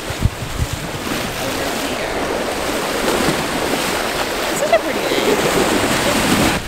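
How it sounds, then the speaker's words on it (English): Small waves lap against the lakefront at Metairie near New Orleans, a soft, continuous wash buried in heavy wind buffeting the microphone, with a few brief knocks along the way. "We've made it to the lakefront, the real lake."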